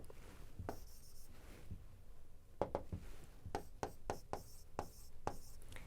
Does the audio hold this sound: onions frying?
no